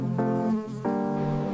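A steady, close buzzing drone of insects with a few shifts in pitch, continuous and fairly loud on its own.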